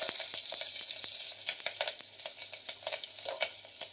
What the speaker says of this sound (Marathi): कढीपत्ता टाकली मी, ज्या 2 मिरच्या घेतलेल्या होत्या त्या मिरच्या टाकल्या।